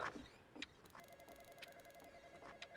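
A telephone rings in a Roblox cruise ship game, a patterned electronic trill pulsing steadily through the middle of the clip, joined by a few short clicks and chimes, with no one talking.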